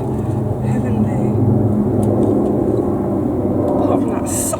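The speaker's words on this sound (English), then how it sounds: "Apart from that socking great aeroplane." A large aeroplane flies over a kitchen garden, giving a steady low rumble that holds through the whole stretch. A voice is heard over it.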